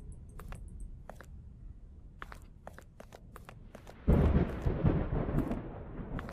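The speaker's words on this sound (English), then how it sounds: "Yeah, I'm not liking that thunderstorm." A thunderstorm in the horror video game Anthology of Fear: sharp knocks and cracks sound first, then a loud rumbling burst of thunder breaks in and rolls on heavily to the end.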